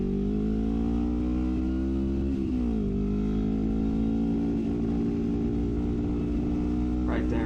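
A 1973 Honda CL350 motorcycle engine running lean and losing power, droning steadily and loudly up close with a brief dip in pitch partway through as it shifts, the revs sagging rather than climbing.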